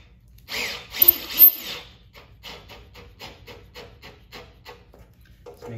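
A screw is driven down by hand during assembly of a NordicTrack Commercial 1750 treadmill: a short burst of rubbing and scraping, then a steady series of about a dozen small, evenly spaced ratcheting clicks, close and fairly quiet.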